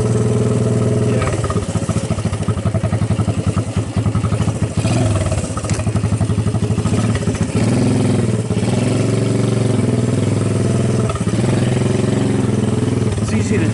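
A rat-rod Honda ATC200 three-wheeler runs loud and close in snow, its engine droning steadily with rising revs and throttle changes throughout, and a voice speaks over it at moments.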